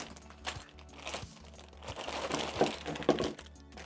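Plastic accessory bags from a Wooting 80HE magnetic gaming keyboard box are handled, giving close, repeated crinkling and rustling with small crackles and soft thumps as they are moved and squeezed.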